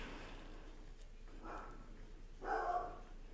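Dog barks somewhere indoors: a couple of short, faint, muffled barks, then one louder bark near the end, over a quiet room.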